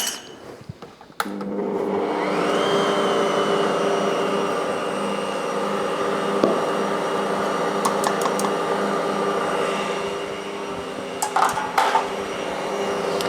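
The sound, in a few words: stand mixer mixing sourdough hot cross bun mixture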